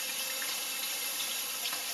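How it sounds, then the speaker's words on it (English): Steady, close rush of water running from a kitchen tap while hands are washed, a constant hiss with no talking. "let me wash my hands here."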